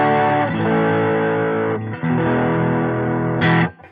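Electric guitar played through a MoVall Busy Bee preamp pedal, loud saturated tube-like distortion with sustained chords, a short break, then a final ringing chord that cuts off.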